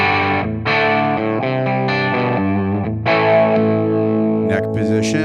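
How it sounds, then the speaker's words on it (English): Electric guitar on the neck pickup driven through a Tonex power amp capture at the third gain level, tubes pushed into mild overdrive, sustained distorted chords ringing steadily and loud with a few bends near the end, close with no voice. "Now you can hear it just pushing those tubes into a little more overdrive now."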